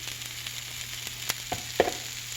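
Sausage and onions fry in a pan with a faint, steady sizzle and a low background hum. A few sharp clicks and clatters ring out near the end, and nobody speaks.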